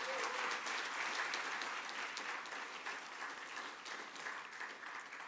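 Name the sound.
audience applause at a summit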